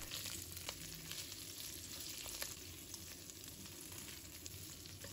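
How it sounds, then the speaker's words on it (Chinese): Shrimp pan-frying in oil over medium heat, a continuous close sizzle with crackling pops and occasional stirring sounds, steady throughout with no speech. "用中火煎制，虾很容易熟，所以煎的时间不宜太长。"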